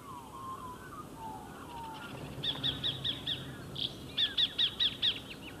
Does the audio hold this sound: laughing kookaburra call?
yes